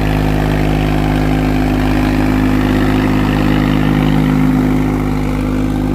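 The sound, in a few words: Swaraj tractor engine running under load in field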